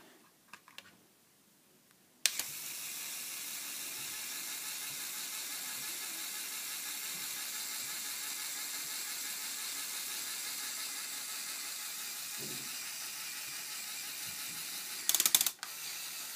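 A Lego Technic service truck's ratcheting mechanism gives off a continuous fast rattling click for many seconds, a harsh steady buzz of plastic teeth that stops abruptly near the end after a few louder knocks.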